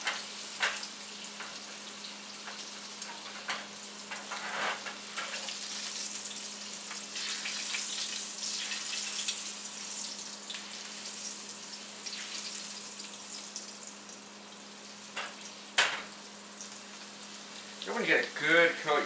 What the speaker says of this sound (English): we're just going to sear the outside